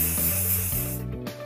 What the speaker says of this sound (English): spraying my hand.